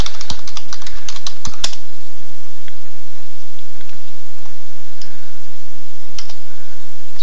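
Keys clicking on a Mac computer keyboard as a password is entered, a quick burst of sharp taps at the start followed by a few scattered presses, close and clear with no voices.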